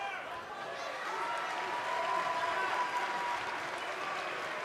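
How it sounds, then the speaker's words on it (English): A virtual arena crowd in the WWE 2K20 wrestling game cheers and applauds steadily before an NXT table match, a dense continuous roar of clapping under commentators' voices. "it sounds to me like the crowd is more than ready for this one"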